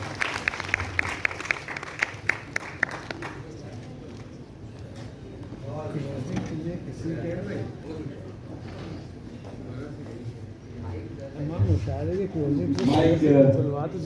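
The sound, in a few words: audience applause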